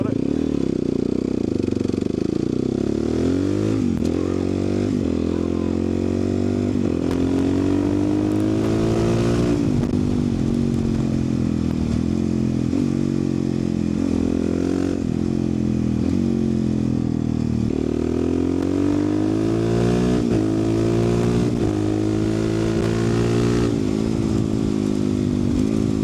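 Close motorcycle engine revving under hard acceleration, its pitch climbing and dropping back in repeated surges through the gears, loud and continuous.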